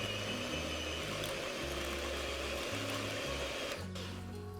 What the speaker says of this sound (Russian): И сейчас я включу наш миксер и немножко пошумлю.